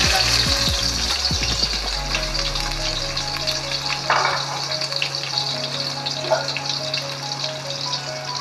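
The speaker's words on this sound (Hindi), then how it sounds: "बस इसको हल्की सी फ्राई करनी है" Finely chopped onion, about one and a half cups, frying lightly in oil with ginger-garlic paste for a chicken spice macaroni, giving a steady close sizzle with a low tonal hum and brief clatters early on.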